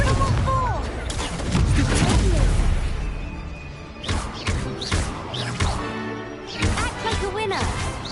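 Incendio and Stupefy spells cast in the video game Hogwarts Legacy, giving loud crackling bursts, whooshes and crashing impacts in irregular succession, with a voice speaking over parts of the fight.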